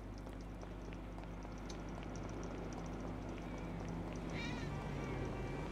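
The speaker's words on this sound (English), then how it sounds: "Oh, there's a cat here." A cat in Grand Theft Auto 5 gives a faint, brief meow near the end, nearly buried under loud, constant game ambience and a steady low hum.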